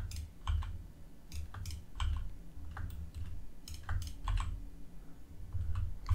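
Computer keyboard typing, including a Shift+R shortcut during 3D modelling, with irregular clusters of sharp close clicks over a low steady hum and no voice.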